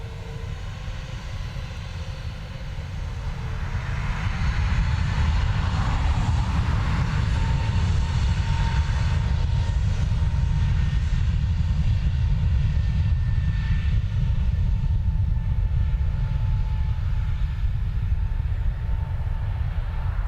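Airliner taking off from runway 10R at Dublin Airport, a steady loud engine roar that swells over the first few seconds and then holds, heard from a distance with no voices.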